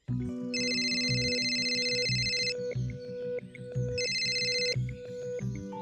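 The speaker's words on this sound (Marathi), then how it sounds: "ए राधाबाई, बरं झालं तू फोन उचलला." A phone rings insistently, pairing a repeating electronic ringtone melody with bursts of bright, buzzing trill, loud and close without pause.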